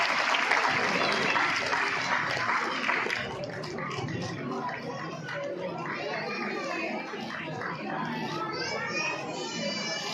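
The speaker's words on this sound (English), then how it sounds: "Clapping, clapping." School annual day audience applauding, strong clapping at the start that fades into a noisy crowd of children talking and playing.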